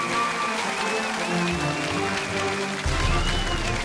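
An audience in a television lecture studio applauds to welcome the guest speaker, a university president, with steady, dense clapping under swelling background music.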